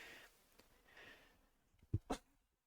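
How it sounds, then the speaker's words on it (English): A single quick sneeze near the end, preceded by a couple of soft breaths, fairly close and not loud. "excuse me, a bit of a sneeze there."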